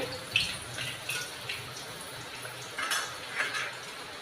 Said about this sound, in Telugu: ఒక ఆరేడు రెబ్బలు తెల్లుల్లిపాయలు చితగొట్టి ఇలా వేసుకోవాలి ఇవి కొంచెం వేగాలి